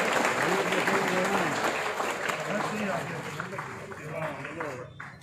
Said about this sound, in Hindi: जोरदार आपके लिए तालियां बजनी चाहिए।